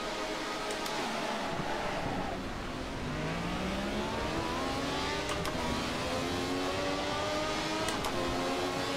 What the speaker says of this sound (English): we are racing the Ferrari 312T at Monza 1966 in a 7-lap race